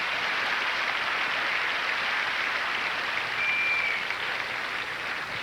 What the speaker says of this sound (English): they all deserve a terrific cheer for a job well done